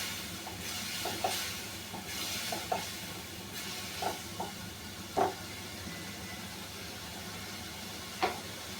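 Fish roe pieces frying with chili powder and green chilies in a pan, a steady soft sizzle broken by occasional louder pops and stirring scrapes, close and without voices.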